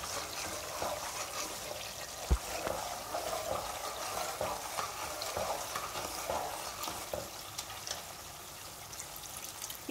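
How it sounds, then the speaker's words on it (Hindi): Milk cream fries down into desi ghee in a pan, a steady close sizzle and bubbling with a spoon stirring and scraping throughout, and one brief knock partway through. "हम इसी तरह चम्मच चलाते रहेंगे जब तक कि ये लाइट ब्राउन ना हो जाए।"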